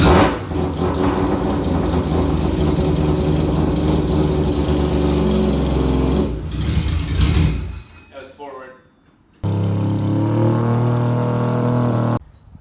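Mazda RX-7 with a T56 Magnum transmission and Ford 8.8 rear end pulling away and driving up through the gears, engine droning loudly then dropping off and returning after a short lull.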